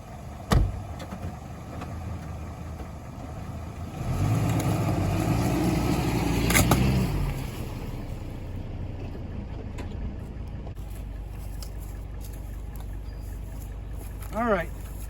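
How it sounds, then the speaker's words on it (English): A Hummer rolls over an AR-15 rifle outdoors, a low engine rumble swelling for a few seconds as the vehicle passes close, with sharp clicks before and after and someone talking. "we're going to go ahead and run it over with my Hummer here"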